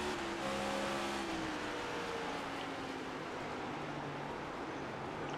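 A NEXT GEN stock car engine in a racing video game at New Hampshire, a steady droning whine with shifting engine tones that hold under continuous road and wind noise at a moderate level, with no talk.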